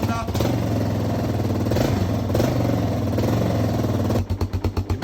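A single-cylinder motorcycle engine idles steadily close by, its low, even thumping pulse running throughout, with a few stronger chugging beats near the end.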